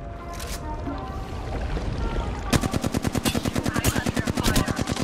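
Gunfire in the video game Apex Legends starts partway through as a rapid, regular burst of loud automatic shots close by, after a stretch of game noise without talk.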